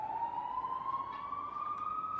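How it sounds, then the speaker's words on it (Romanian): Emergency siren, ambulance or police, passes outside, a steady rising wail heard from a distance through the room. "spre deosebire de ce se aude aici, salvarea asta sau poliția"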